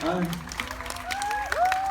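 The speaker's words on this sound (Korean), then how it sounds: "어마어마한 박수소리가 들렸습니다" A cinema audience at a special guest screening of the film Hedwig applauds. The clapping is fairly faint and sits under voices talking.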